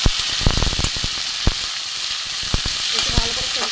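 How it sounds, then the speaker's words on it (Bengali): Vegetable peels fry loudly in hot oil in a pan, giving a dense continuous sizzle broken by sharp spatula knocks and scrapes. "একটু ভালো করে ভেজে নেব।"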